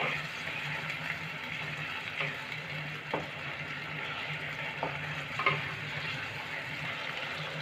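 Poppy seed paste is stirred through doi potol in a pan over a low, steady simmer, with soft scrapes and light taps of the spoon against the pan.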